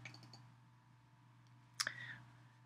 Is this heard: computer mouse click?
yes